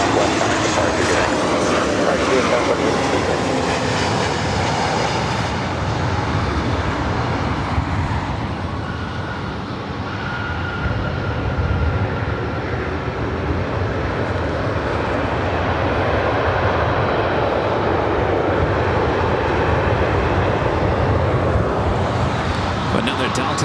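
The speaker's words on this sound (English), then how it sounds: "Another Delta A321 Neo." A Delta Airbus A321neo jet airliner at LAX roars loud and steady, a broad continuous engine rumble that dips briefly midway before building again, with people talking over it.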